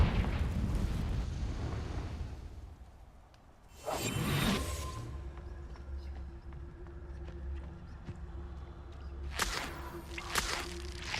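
Confringo fire spell in the Hogwarts Legacy video game: a sudden loud whooshing burst with a blazing explosive rush, then fading rumble, followed later by another bright crackling blast near the end.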